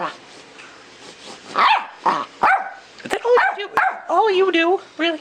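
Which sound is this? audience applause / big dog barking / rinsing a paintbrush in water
big dog barking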